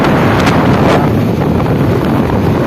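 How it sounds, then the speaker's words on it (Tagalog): Heavy wind buffets the microphone in a constant low, rumbling roar, loud and close, outdoors on the Real–Infanta road, with no other sounds coming through. "Kahit nakamike na ako, malakas pa rin ang hangin guys."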